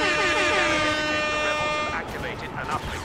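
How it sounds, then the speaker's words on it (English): Blaring air horns inside a Star Wars Battlefront Beta Walker Assault match, a loud sustained chord of stacked tones for about two seconds before cutting off into busy game noise and a voice. "Have some air horns, man."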